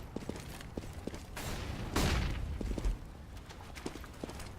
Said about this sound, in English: There goes that Molotov once more.